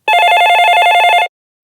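An old-style telephone bell rings in one continuous, loud, close trill of rapid metallic strikes lasting just over a second, then cuts to silence.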